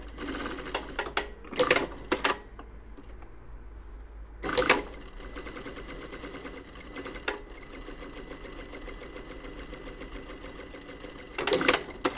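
A Juki sewing machine stitches steadily through most of the stretch, with a few louder clunks and short bursts from handling and adjustment at the start, middle and end.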